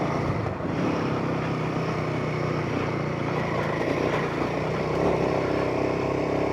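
A four-wheel-drive vehicle chugs steadily in second gear up a steep section of the Mt Terrible track. Its low, continuous engine drone stays close and even throughout, with no talking.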